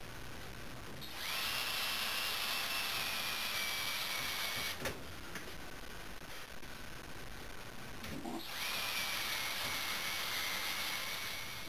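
A hole is drilled by hand with a power drill, whose steady high whine runs loud and close for several seconds, drops briefly, then resumes with no talking.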